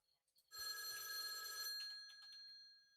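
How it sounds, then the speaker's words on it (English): A telephone bell rings for an incoming call, one loud sustained ring burst that then fades, heard alone with no talk. "Phone call."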